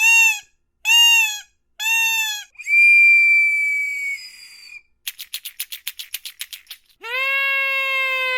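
A predator call from an old percussion case blown in a series: three short squealing blasts, a long wavering whine, a rapid stuttering trill, then one sustained cry, loud and close with no voices.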